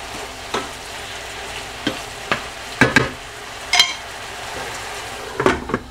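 Chicken breast fillet and garlic frying in a pan, a soft continuous sizzle broken by sharp clinks and scrapes of a utensil against the pan every second or so, close and alone.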